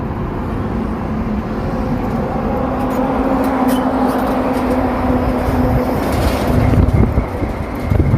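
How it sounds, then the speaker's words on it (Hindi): Heavily loaded truck tires rumbling over a road at night, a dense low roar that swells and grows louder toward the end, with a faint tonal whine partway through and no voices. "रात में जब हैवी लोडेड ट्रक के टायरों की सड़क पर रगड़ से जो आवाज सुनाई देती है"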